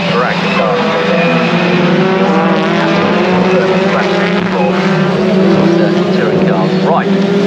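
Mini Challenge UK race cars at Snetterton circuit, a loud sustained engine roar with rising and falling revs as cars pass, while a commentator talks over it throughout.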